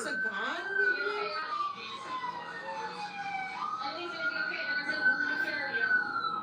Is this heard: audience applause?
no